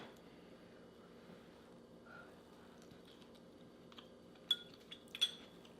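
A spoon clinks a few times against a dish while masoor dal is tasted, a couple of sharp, light taps near the end of an otherwise quiet kitchen room tone.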